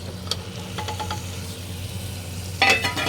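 Ground spices being stirred into handi chicken in a pot: a soft, continuous sizzle under light scraping, with a few brief utensil clinks near the beginning and a louder scrape toward the end.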